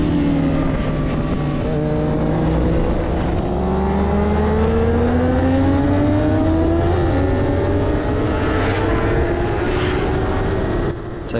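Racing motorbikes roar past at Snetterton circuit, with a Kawasaki overtaking on the start-finish straight; loud, continuous engine noise with rising and falling pitch as machines pass close by, no speech.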